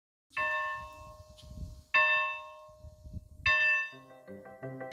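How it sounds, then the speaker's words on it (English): A lunch bell rings out in three separate clear, tonal strikes about a second and a half apart, each ringing and fading, followed by a quicker run of lighter chime notes at the end, with no talking. "the lunch bell rang."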